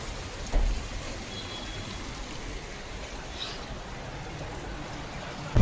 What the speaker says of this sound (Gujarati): ને જો ભાઈ વરસાદ રહેવાનું નામ લેતો નથી.